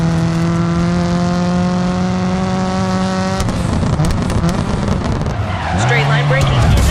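A rally car in DiRT 4 holds a high, steady engine drone, then brakes hard into a loud tire skid and squeal with engine bursts, while a voice speaks over the game sounds.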